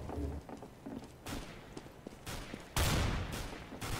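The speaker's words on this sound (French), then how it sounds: "Merde, j'ai tiré sur mon pote." Gunfire in Counter-Strike: Global Offensive, several sharp bursts of shots, faint at first and then a louder close volley near the end, with no talk over it.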